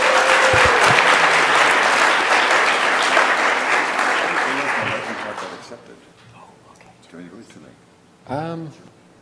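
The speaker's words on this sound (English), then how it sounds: "Can we get one more round of applause for all of the lightning talkers?" An audience at a conference lightning-talk session breaks into loud, sustained applause that fades away after about five seconds, followed by quiet room noise and a brief spoken voice.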